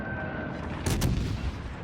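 Naval guns on the IJN Yubari cruiser in World of Warships: Legends fire a single loud, sharp blast mid-clip, followed by a rumbling tail over a steady background hum.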